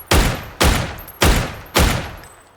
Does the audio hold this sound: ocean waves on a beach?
no